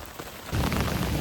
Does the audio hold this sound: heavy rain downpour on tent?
yes